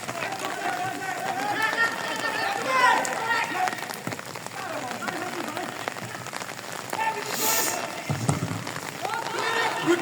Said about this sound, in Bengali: বৃষ্টি হচ্ছে মাঠে।